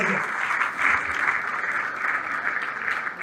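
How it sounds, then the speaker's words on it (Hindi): A crowd at an achievement recognition event bursts into loud, sustained applause, thick continuous clapping close up for the whole stretch. "एक बार जोरदार तालियां"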